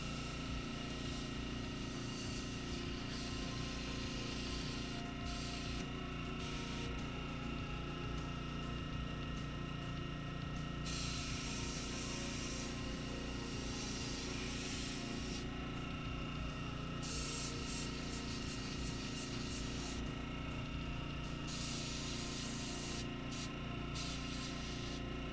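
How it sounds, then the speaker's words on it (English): An airbrush sprays paint freehand onto model HMMWVs, giving a steady, unbroken hiss that stays at an even level the whole time, close by and with no talking. "if you're airbrushing, don't be afraid to freehand it."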